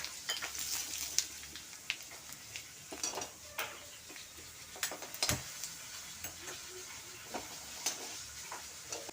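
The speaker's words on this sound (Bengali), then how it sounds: "বন্ধুরা তেলের মধ্যে দারচিনি এলাচ জিরার গুঁড়া ও তেজপাতা দিয়ে দিলাম" Cinnamon, cardamom, ground cumin and bay leaf sizzle in hot oil: a quiet crackle dotted with sharp pops and light clicks across several seconds, with no one talking.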